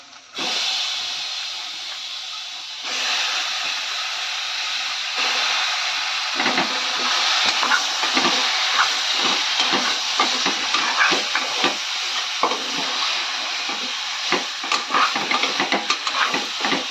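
Chicken pieces dropped into a pan of hot masala with curry leaves, giving a steady loud sizzle and hiss that runs throughout, with crackling pops and stirring scrapes growing busier over time and no talking.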